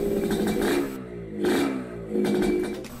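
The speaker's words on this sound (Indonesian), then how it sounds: "itu tadi contoh dari suara mesin 2 tak" A two-stroke motorcycle engine with a noisy exhaust is blipped in three sharp revs. Each burst is buzzy and rasping and fades back to a rattling idle, close and without any voice.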